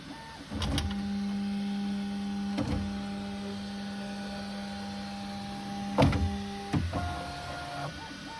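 A Bambu Lab X1C 3D printer homes with its nozzle hot at 210 degrees, giving steady stepper-motor whines and hums in several held tones, broken by brief clunks and shifts in pitch as the axes move. No one speaks.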